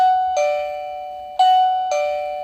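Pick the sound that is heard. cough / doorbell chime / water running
doorbell chime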